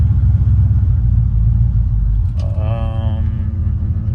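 An idling car engine that runs rich gives a low, steady rumble up close, and a brief rising tone after the gas is released settles back to a deep idle.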